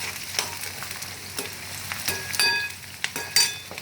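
Light frying sizzle from a pan on a low flame while eggs and onions cook, a steady soft crackle broken by a few sharp scraping taps, close and fairly quiet with no talking.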